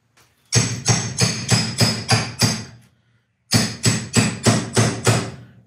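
A hammer drives a pickle fork to split a suspension joint on a 1972 Celica: six heavy, ringing metallic blows in steady rhythm, a brief silence, then five more, close and loud with no talk.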